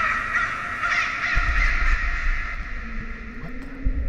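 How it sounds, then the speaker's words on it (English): Harsh crow caws repeat steadily over a dim, moody ambient drone inside the horror game Layers of Fear, loud and close with a low rumble entering partway through. "What the? Crows?"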